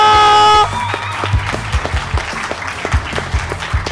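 Applause closing an event, a short sustained musical tone giving way to an irregular patter of claps from a crowd, moderately loud with louder individual hand claps standing out.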